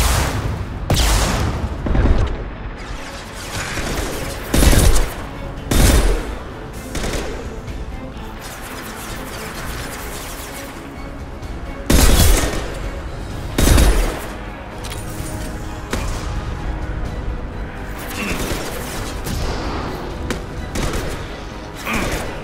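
Gunfire and heavy power impacts from the Mass Effect 2 video game crack out in loud, irregular bursts of shots and booms, separated by a steady background of rumbling combat noise.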